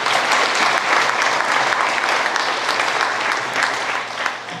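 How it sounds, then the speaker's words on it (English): Audience at a graduation ceremony claps steadily and fairly loudly in dense, sustained applause that slightly tapers toward the end. "so please give her a round of applause."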